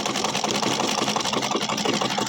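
Sewing machine stitching cloth, a fast, even mechanical chatter running loud and continuous with rapid regular pulses.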